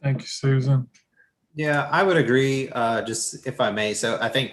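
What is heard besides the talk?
No everyday noises stand out.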